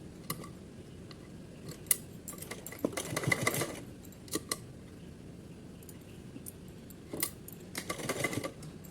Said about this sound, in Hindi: इसको ऐसे फोल्ड करके एक सिलाई लगा देनी है यहाँ